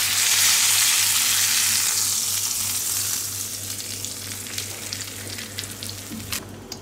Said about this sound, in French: on a ajouté donc de l'huile d'olive et du beurre qu'on laisse légèrement mousser sans brûler